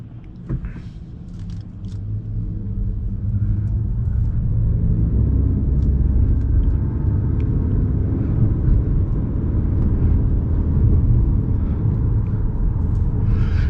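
A Ford Maverick XL Hybrid pickup with a CVT accelerates with a steady, smooth low rumble and road noise that holds evenly throughout, with no speech.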